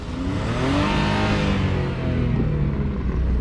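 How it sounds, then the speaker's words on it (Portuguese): A Volkswagen Gol 1.0 three-cylinder engine revs steadily and loudly close by, its deep rumbling exhaust note rising and holding with no talking. "Sente o escape agora"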